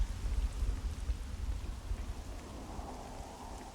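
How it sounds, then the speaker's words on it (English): Steady rain falls in the video game Devil May Cry 3 as a dense, even hiss with a low rumble beneath, continuous and moderately loud with no talk over it. "Waiting in the rain."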